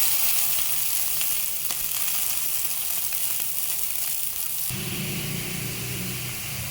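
Vegetables fry in butter on a tawa with a steady, hissing sizzle throughout, joined by a low rumbling layer of stirring in the last couple of seconds.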